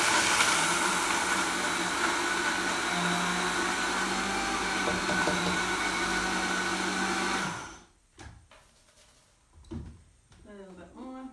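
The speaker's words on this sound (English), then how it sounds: "My blender's quite noisy." A noisy kitchen blender runs loudly and steadily for several seconds, then cuts off abruptly, leaving quiet handling clatter and brief speech afterward.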